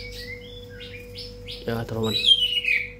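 A white-rumped shama, a large long-tailed songbird with a tail of about 22 to 23 cm, gives a series of short high chirps and whistles, close and fairly clear, with a voice talking briefly partway through.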